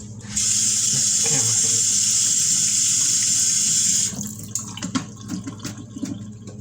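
Tap water runs steadily over a butternut squash in a kitchen sink, a loud continuous hiss for about four seconds before the flow stops, leaving drips and light clatter.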